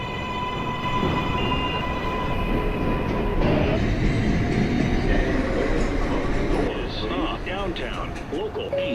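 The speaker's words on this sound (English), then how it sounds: "This is a Manhattan-bound 5 express train." A Manhattan-bound 5 express train on the New York subway rumbles and clatters past on the tracks, loud and steady, with wheel squeal and a recorded announcement voice running over the noise.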